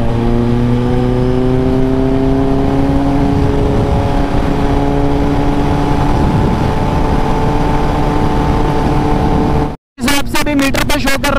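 A Kawasaki ZX-10R runs continuously while being ridden, its loud engine note holding steady and slowly rising in pitch before a brief cutout and a burst of choppy, stuttering revs.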